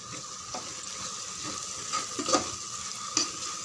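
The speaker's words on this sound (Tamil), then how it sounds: "நல்லா வதக்கி விடுங்க." Ground spice masala is sautéed in a pan, with a low steady sizzle under a few soft scrapes and taps of a spoon stirring, close and quiet, no speech.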